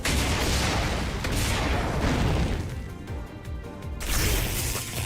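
The Driver Cannon attack in the Digimon Time Stranger video game fires as a heavy booming blast with crackling bursts, a loud rumbling roar that dips briefly and then surges again.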